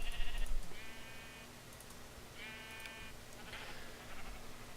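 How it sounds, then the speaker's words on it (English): Several Minecraft sheep bleat in short wavering calls, three or four spaced bleats over a steady faint game background, fairly quiet and without talk. "turn the volume down so those sheep aren't quite as annoying"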